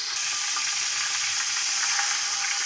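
Garlic ginger paste hits hot oil for a fried fish green masala biryani, giving a steady, loud, close sizzle that never breaks and has no talk over it.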